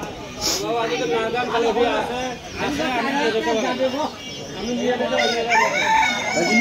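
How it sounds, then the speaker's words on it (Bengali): Chickens cluck and a rooster crows repeatedly nearby at a village market, with people talking over the birds much of the time. "বড় মুরগি আছে এই যে আর কাছে"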